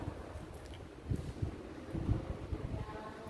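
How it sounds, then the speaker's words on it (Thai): Wind gusts buffet the open third floor of a temple hall, a low, uneven rumbling that swells and surges in bursts, close to the microphone, with no voices. "พอขึ้นมาด้านบนนี่ลม ลมวูบเลยครับ"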